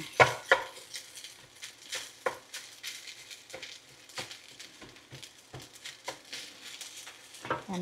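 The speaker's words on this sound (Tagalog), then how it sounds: "Lutuin natin yung kanin." Garlic-heavy rice being stir-fried in a pan: a steady sizzle with scraping and stirring strokes and a few sharp utensil knocks against the pan, close and fairly loud, with no talking.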